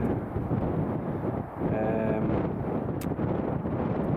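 Steady, loud wind buffeting the microphone throughout, a low rumbling roar with a brief dip midway.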